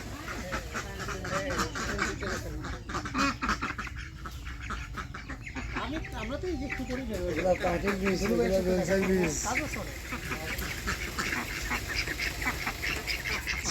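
A flock of ducks gathered at a village home quacks repeatedly in a busy, close chorus, mixed with people talking nearby.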